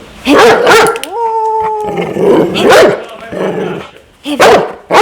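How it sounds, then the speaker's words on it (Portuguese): A dog barks loudly and close by, several sharp barks in a burst followed by a drawn-out whine or howl and then more barks, alone without talk. "latindo"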